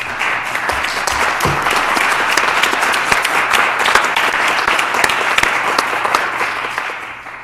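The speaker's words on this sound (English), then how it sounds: "I clapped under the table." Sustained applause from a room of people at a town select board meeting in Concord, Massachusetts, following a retirement tribute: dense, even clapping, loud and close, lasting several seconds before tapering at the end.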